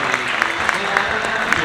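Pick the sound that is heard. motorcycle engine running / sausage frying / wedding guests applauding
wedding guests applauding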